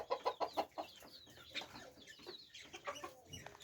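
Chickens on a farm give a quick run of four or five loud clucks near the start, then scattered softer clucks and calls continue. No voices are heard.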